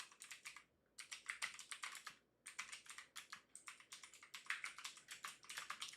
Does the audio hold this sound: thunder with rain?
no